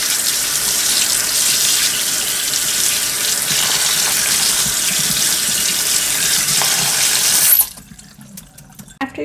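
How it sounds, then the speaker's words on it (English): Tap water runs steadily into a sink as basmati rice is rinsed, a loud, even splashing hiss that cuts off abruptly near the end, leaving a few faint drips and clinks. "make sure you clean your rice until the water runs clear"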